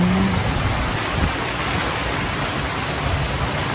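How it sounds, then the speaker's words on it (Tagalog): Steady rain pouring outside a hut in a rural vegetable-farming setting, a dense, even hiss that stays loud and constant throughout with no voices. "Yan po at umuulan na."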